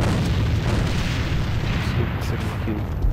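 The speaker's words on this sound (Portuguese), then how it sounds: "granada!" A grenade detonates in a competitive team shooter, a dense low rumbling blast that fills the whole short moment, close and loud.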